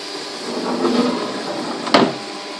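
An Emco F1 CNC milling machine runs with a steady whirring hum while machining a model engine backplate under mist coolant, with a sharp brief click near the end.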